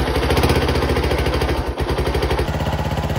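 A Honda NX200 motorcycle engine idles close by in neutral with a steady, rapid chugging pulse that stays even throughout, loud and without any voices.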